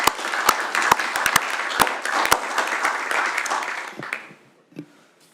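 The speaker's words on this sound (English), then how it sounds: "Round of applause, please." Councillors at a council meeting applaud Councillor Johnson, a modest round of clapping with a few sharp nearby claps that swells and then tapers off to near silence by the end.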